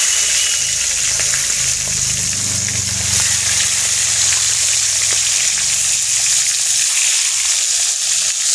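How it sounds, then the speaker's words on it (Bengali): Fish fries in a pan with a loud, dense, continuous sizzle and bubbling hiss, close up and steady throughout, with faint low clatter underneath. "আর দেখি মাছ ভাজা হচ্ছে।"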